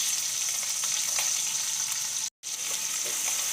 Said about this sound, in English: So here I've added the veggies and we'll saute it now.